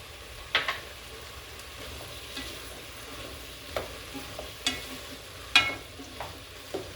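Garlic powder, curry powder and spices added to a pot for lentil coconut curry stew, a soft steady sizzle punctuated by several sharp stirring scrapes and clinks, close with no talk.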